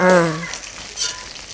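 Herbal hair oil heats in a pan on a gas stove with a steady soft sizzle and hiss, after a brief voice at the start.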